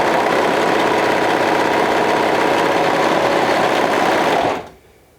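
A sewing machine runs in a fast, steady whir while stitching sleeves, right sides together, for a flutter wrap garment, then winds down and stops near the end.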